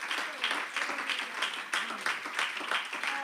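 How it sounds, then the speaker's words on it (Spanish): A church congregation applauds during a Sunday service, a sustained mid-distance wash of clapping with a few voices faintly mixed in. "dar un aplauso al Señor"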